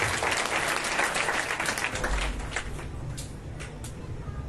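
Audience at a religious katha gathering clapping in thanks, a full burst of many hands that gradually softens and thins toward the end, with low room hum underneath.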